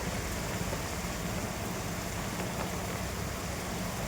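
Heavy rain pours down in a steady, dense roar, loud and close, with no voices and no break across the whole stretch.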